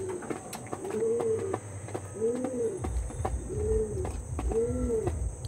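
Top-quality show pigeons of Andhra and Pulsar lines coo in four rhythmic, rolling phrases, close and clear over a steady high insect-like hiss and faint background noise.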